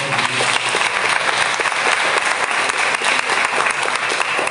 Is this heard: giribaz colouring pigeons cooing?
no